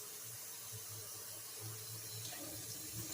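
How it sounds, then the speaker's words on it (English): Cold water runs steadily from a tap at a kitchen sink, a faint, even hiss of flow with small splashy fluctuations throughout. "Turn on the cold water."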